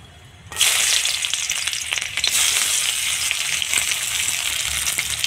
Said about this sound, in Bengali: তেলের উপর দিয়ে দিলাম পেঁয়াজ।